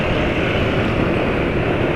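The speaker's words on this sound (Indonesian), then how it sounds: "suara mesin" Loud, constant four-stroke engine drone with a rough, dense rumble, steady throughout with no pauses or voices.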